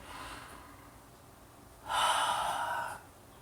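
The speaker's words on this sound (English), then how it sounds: "Keep breathing in." A person inhales during a seated yoga twist with the spine held upright and the gaze over one shoulder, a soft, airy breath swelling for about a second, close and quiet, alone in a calm room.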